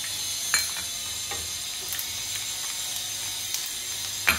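Mustard seeds, cumin, fenugreek and fennel sizzling in hot oil for a tomato pickle, a steady, even hiss throughout with a few faint pops and crackles, no voices heard.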